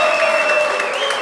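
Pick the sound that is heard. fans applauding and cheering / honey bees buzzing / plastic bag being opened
fans applauding and cheering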